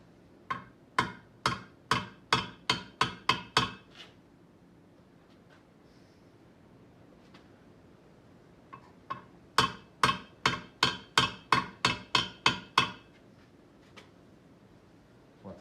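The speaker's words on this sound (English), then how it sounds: "I'll just lightly start it with a hammer." A hammer lightly taps a hardened steel bearing into a CRF150R motorcycle wheel hub: two runs of about eight to ten crisp, evenly spaced metallic taps, separated by a quiet pause.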